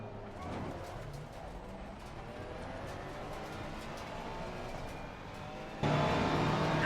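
Race car engine in Assetto Corsa Competizione on the Hungaroring during an online quick race, a steady loud drone with shifting pitch throughout, growing louder near the end; no talking.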